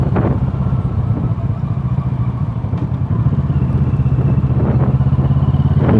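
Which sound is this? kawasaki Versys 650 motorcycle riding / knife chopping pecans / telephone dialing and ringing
kawasaki Versys 650 motorcycle riding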